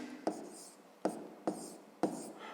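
Pen strokes writing a math equation by hand for a 5th-grade exercise, four distinct scratchy taps and short scrawls at irregular spacing, close and fairly quiet with no talk.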